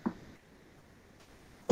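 A single sharp sneeze bursts out loudly at the very end, after a short faint vocal sound at the start and near silence in between, heard during an online calculus class.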